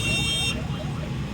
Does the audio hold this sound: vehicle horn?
yes